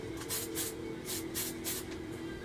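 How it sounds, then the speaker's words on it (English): Short hissing bursts from a spray can coat 1/48 Hasegawa F-22 Raptor model kit parts black, about six quick pulses in irregular succession, close and clear over faint background hum. "Okay, and I'll spray paint this one black."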